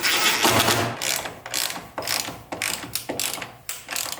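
A ratchet clicks in quick bursts while tightening factory bolts on the windshield bracket of a rusty Jeep Wrangler YJ, several loud, close runs of ratcheting separated by short pauses.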